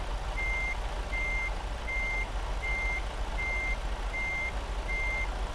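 A truck's reversing alarm in American Truck Simulator beeps seven times at a steady rhythm over a constant low engine rumble, with no talking.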